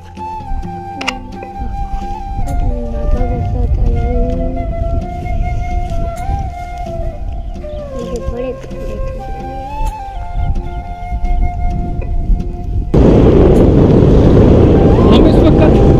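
A motorbike ride out to the ancient ruins of Bhera near Pind Dadan Khan, Jhelum, carries a steady low engine rumble with wind buffeting the microphone, and the wind roar grows much louder and harsher over the last few seconds.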